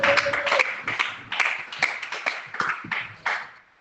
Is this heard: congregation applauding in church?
yes